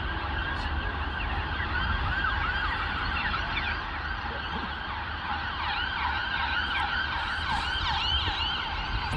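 Ambulance sirens wail continuously in Edinburgh, rising and falling in overlapping tones for the whole stretch, loud and fairly near over steady street rumble.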